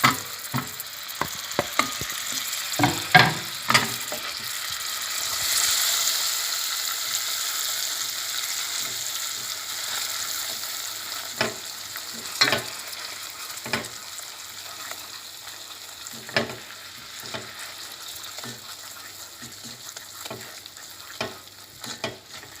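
Butter stirred into hot sizzling caramel in a pan for île flottante, a soft steady sizzle with a burst of frying hiss and scattered sharp clicks of a utensil scraping the pan.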